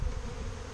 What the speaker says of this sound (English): especially with this many bees around in the yard